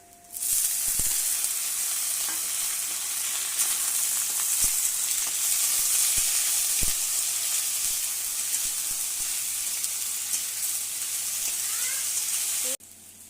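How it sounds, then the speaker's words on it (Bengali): Carrots, cauliflower, beans and radish fry with onions in a pan, giving a loud, steady, close sizzle with faint stirring clicks that stops abruptly near the end. "পেঁয়াজ ভাজা হয়ে গেছে, এর মধ্যে দেবো আমি গাজর, ফুলকপি আর আছে বিনস, মূলো কেটে রেখেছি"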